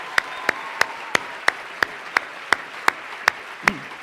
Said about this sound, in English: Huge round of applause for their leadership and guidance.